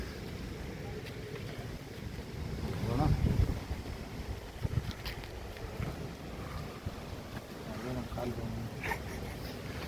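Strong wind at the summit of Nandi Hills roars and buffets the microphone in a continuous rush, swelling in gusts, while people talk faintly beneath it.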